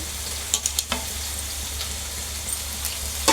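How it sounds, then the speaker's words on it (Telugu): Cabbage, carrot, mint, spring onion and capsicum fry for veg fried rice, giving a continuous sizzle with a few quick stirring scrapes near the start and one at the end. "ఇది ఒక 2 నిమిషాలు మంచిగా ఫ్రై అవ్వాలి"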